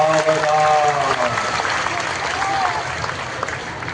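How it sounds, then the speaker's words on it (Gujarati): A crowd claps steadily during a Hindu wedding ritual at a religious gathering as the bride is seated in the mandap, with a voice speaking over the sustained applause. "ભાઈ વધાવો તાળીઓથી."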